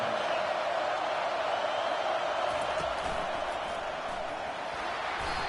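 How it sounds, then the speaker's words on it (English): A large stadium crowd at a college football game cheers in a steady, distant roar that fills the whole stretch without clear peaks. "This crowd knows when to bring it."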